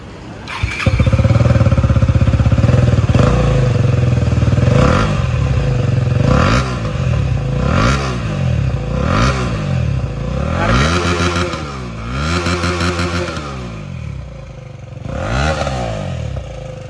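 A KTM Duke 250 motorcycle with its exhaust removed starts up loud and close, then revs repeatedly in rising and falling surges with a raw, rasping bark and rattle between blips.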